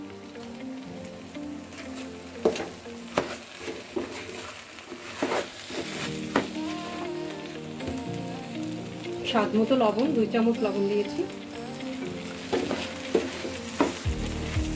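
Rice fries and is stirred in a pot with garam masala and salt for an Iranian-style party rice dish, giving a continuous close sizzle with repeated scraping stirs and crackles while a voice talks briefly.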